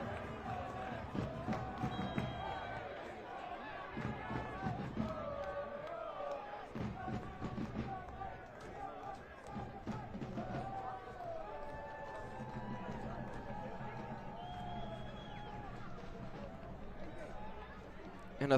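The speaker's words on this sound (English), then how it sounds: "And a thunderous crowd" A thunderous soccer stadium crowd at a Spokane Velocity FC versus Texoma FC match roars and chants in surging waves, distant and fairly faint, with a commentator speaking over it.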